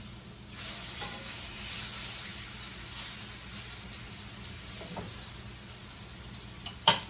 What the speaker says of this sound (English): just brown these in your pan